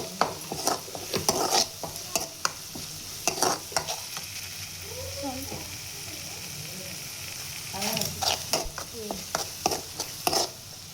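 Turmeric powder fries in a pan with a steady sizzle for an aloo paratha filling. Repeated spoon clacks and stirring scrapes come close and crisp, and a faint voice murmurs in places.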